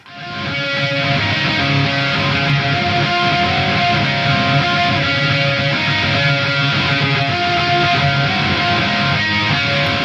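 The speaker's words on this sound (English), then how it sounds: "lastly, we're going to do the drone string with the melodic note over it" A soloed pop punk lead guitar, distorted and loud, holds a droning string under a melodic note line in a dense, sustained wall of sound.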